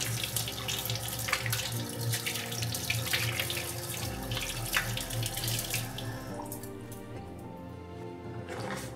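A tap runs steadily as hands are rinsed at a sink, a close, continuous splashing rush of water with small shifts in tone as the hands move under the stream.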